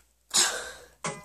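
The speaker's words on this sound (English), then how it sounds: "Pardon my coughing!" Two harsh coughs from someone who is sick and phlegmy, a long rasping one followed by a shorter one, close and loud with no talking.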